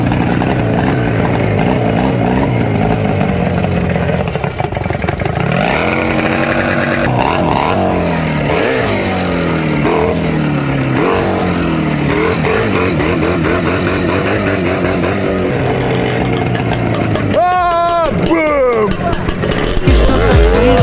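An Izh Jupiter motorcycle engine roars loud and close, its pitch rising and falling as it is revved and ridden, with a voice breaking in near the end.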